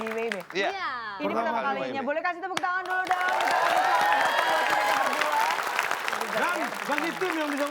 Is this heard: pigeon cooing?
no